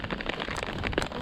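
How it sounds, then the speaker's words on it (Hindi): Rain drops falling during an off-road trip near Harshnath Temple in Sikar, Rajasthan, a steady close wash of patter with small scattered splashes throughout. "ये बारिश का पानी, ये पानी की बूंदें"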